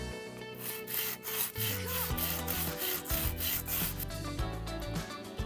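A tear-shaped jewelry bezel setting being flat sanded on a flat surface, producing close, rhythmic rasping strokes that rub back and forth continuously with no voices.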